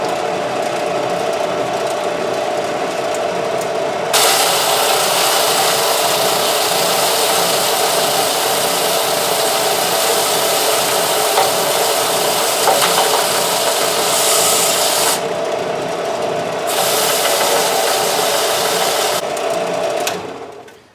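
A power sander sanding resin rocks whirs loudly and steadily with a gritty, rattling texture, briefly dropping in pitch a couple of times before switching off.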